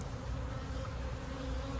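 Honey bees on frames from a boosted hive, a dense continuous buzz close up with a steady hum, no voices.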